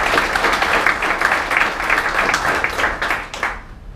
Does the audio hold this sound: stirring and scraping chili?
no